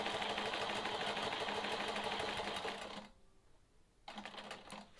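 Sewing machine running steadily as it quilts a sawtooth star quilt block along a ruler line, a fast continuous whir that runs for about three seconds, drops out briefly, then starts again, close and alone.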